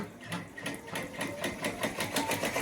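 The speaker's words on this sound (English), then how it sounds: "So all I have to do now is just embroider." A home embroidery machine stitches a letter onto a holiday gift bag, its needle hammering in a fast, even mechanical rhythm that sounds close and continuous with no talk over it.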